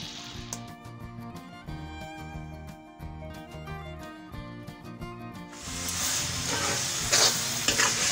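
Tomatoes, salt and spices frying in a karahi for a Sindh-style fish karahi, with a steady sizzle and stirring that swells louder and hissier toward the end.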